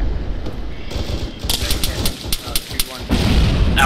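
Gunfire during a military field training exercise comes as a series of sharp cracks and thuds at varying distance, with rapid bursts clustered in the middle, and people talk throughout.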